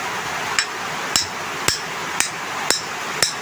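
A metal shaft bushing on a stand fan is hammered out with six sharp, evenly spaced hammer strikes ringing close and loud over a quiet background.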